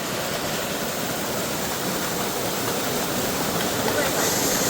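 Out in a forest at night, a waterfall sends up a constant, even roar of falling water that stays steady and close throughout, with only faint hints of other sounds beneath it.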